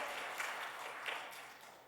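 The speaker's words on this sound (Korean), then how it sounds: "영광의 박수 올려드립니다" A church congregation claps together during a Sunday worship service, a faint and steady wash of applause that carries on for a couple of seconds with no talking over it.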